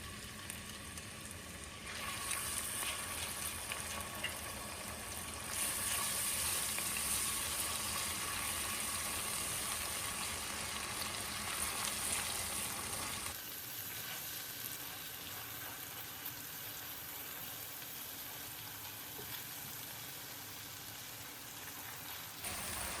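Ginger garlic paste and ground green chili frying in a pan for chicken biryani, a steady close sizzle with stirring, louder in the middle and settling to a softer crackle toward the end, with no talking.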